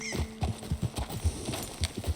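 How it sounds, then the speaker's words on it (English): Horse hooves clip-clopping at a steady walking rhythm while riding in Red Dead Redemption 2, a close series of dull thuds with a faint snort and a brief voice in the background. "let's dismount here. Best leave the horses back a bit."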